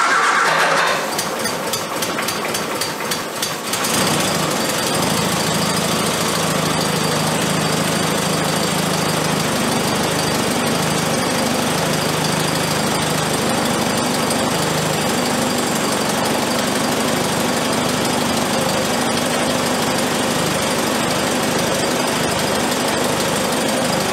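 A classic car engine with SU carburettors idles steadily for over twenty seconds after a brief rough start, its low, even drone running close and loud with no voices.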